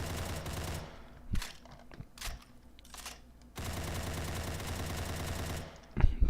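Uzi submachine gun firing in the video game Dread, with a couple of short bursts followed by a sustained rattling stream of rapid shots, fairly loud and close, with no speech.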